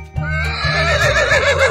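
A horse neighs with a long, wavering whinny, loud and close, over a looping children's music beat.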